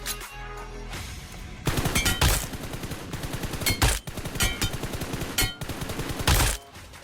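Sustained automatic gunfire from PUBG Mobile, long rapid bursts of shots fired at long-range targets, loud and close, broken by brief pauses.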